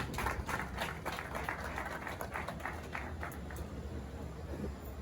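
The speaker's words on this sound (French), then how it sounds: "on va dire l'applaudissement, s'il vous plaît." Applause at a press conference for a concert, a continuous, moderately distant patter of many hands clapping that holds steady for several seconds without any voices over it.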